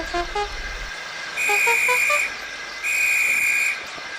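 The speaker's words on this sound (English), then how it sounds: "The guard blew his whistle till he had no more breath" Two long, steady, shrill blasts of a railway guard's whistle, each lasting about a second with a short gap between, over a low background rumble.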